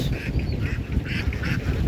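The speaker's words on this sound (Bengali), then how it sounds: "আমরা হাঁসের খামার মানে হাঁস দেখতেছি।" A flock of ducks at a duck farm in a wetland haor region, about five hundred birds, quacking in a busy, continuous chorus close by with no talk.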